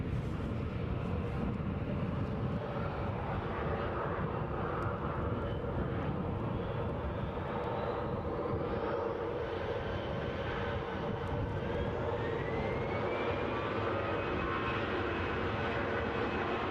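An easyJet airliner at Edinburgh airport roars steadily and loudly throughout, a broad continuous engine rumble with a rising whine toward the end as the aircraft passes close by.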